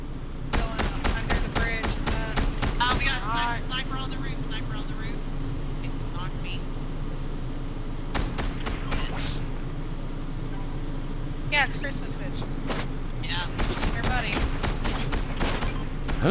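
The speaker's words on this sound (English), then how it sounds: "Who the hell is shooting me?" Gunfire in Fortnite comes as clusters of sharp, rapid shots, a fast volley early on and more bursts later, with a steady engine-like hum underneath and voices talking between the shots.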